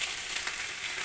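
Pointed gourd and cauliflower fry in oil in a pan, giving a steady, close, bright sizzle that carries evenly through a short moment with no talk.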